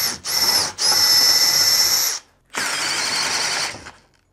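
A power drill whines loudly in two long bursts with a brief stop between, its pitch sagging as it bogs down while drilling through material, then a second steady run that cuts out.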